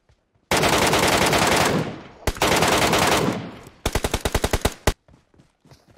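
Automatic fire from an MK14 rifle in a shooter game: two long sustained bursts, then a rapid string of distinct individual shots with a final crack, all loud and close.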